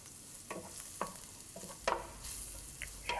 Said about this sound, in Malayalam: ചതച്ച മുളക്, കാശ്മീരി മുളക് പൊടി എന്നിവയിട്ട് വഴറ്റുക.